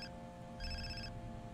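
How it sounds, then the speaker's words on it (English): An in-game telephone in Far Cry 3 rings once, a brief faint electronic trill over a low steady game hum, with no one talking. "Oh, the phone is calling."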